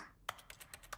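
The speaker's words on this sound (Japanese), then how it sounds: "キーボードの音。" Computer keyboard typing in the video game The Stanley Parable: a quick, faint run of about half a dozen light clicking keystrokes after a brief quiet start.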